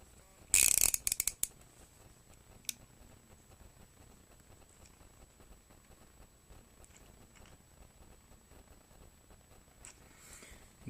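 A Lidl Powerfix 1/4 inch offset ratchet gives a quick, bright run of clicks from its pawl near the start, followed by a few isolated faint ticks against a quiet background.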